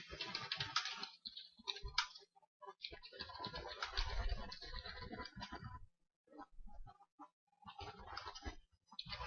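Computer keyboard typing and mouse clicks come in close bursts of rapid keystrokes, separated by short pauses, with a longer silent gap midway before another run of typing.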